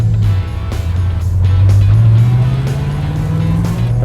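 A Mopar muscle car with a pistol grip shifter and air grabber scoop, its engine held at a loud, steady rumble whose pitch climbs slowly as it is given gas, close up with no talk.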